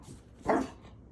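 A French bulldog puppy gives a single short, sharp bark, close and loud, in an otherwise quiet room.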